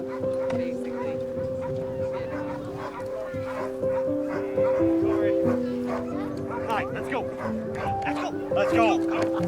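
Sled dogs at a winter festival parade bark and yip excitedly amid a crowd, with loud talking and cheering over the top and a sustained tonal hum running throughout.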